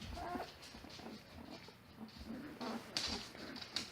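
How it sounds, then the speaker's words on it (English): Three-week-old Great Pyrenees puppies make short growls and yips close by, with bursts of whimpering and scuffling among the litter. "There's growling and barking. This one here, the firstborn, she likes to growl at her siblings."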